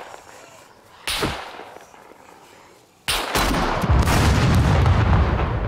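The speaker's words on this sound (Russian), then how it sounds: "Да, ну взрывы мощные." Powerful explosions in the survival video game SCUM: a sharp blast, then a bigger detonation that rolls into a loud, sustained, rumbling roar.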